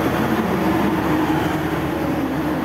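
A steady, loud low rumble of a train arriving at Kutoarjo station, Indonesia, with continuous mechanical roar and rail noise, no clear pauses or voices.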